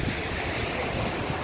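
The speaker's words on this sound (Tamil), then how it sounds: "ஆமாம் தண்ணி சம ஃபோர்ஸாக அடிக்குது அப்படியே." Water rushes with great force at a place near Poondi, a steady, loud roar of surging flow with wind buffeting the microphone.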